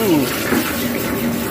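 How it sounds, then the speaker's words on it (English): A hot knife blade ground from a lawnmower blade is plunged into water to quench it, giving a short, loud, steady hiss and gurgle. "now we're gonna go right into our water"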